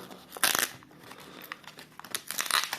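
Crinkling and tearing of plastic tape wrapping, with a few sharp rips and rustles between quieter pauses as a heavily taped package is worked open.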